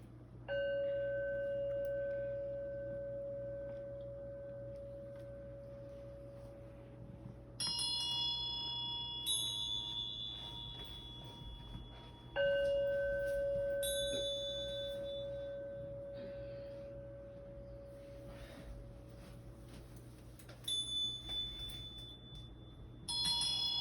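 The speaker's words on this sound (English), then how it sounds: "So the bells will begin ringing right now." Bells ring with clear sustained tones that are struck and left to decay. Several strikes overlap in a slow, spaced sequence, moderately loud and without talk over them.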